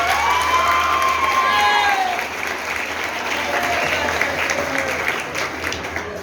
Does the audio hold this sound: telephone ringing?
no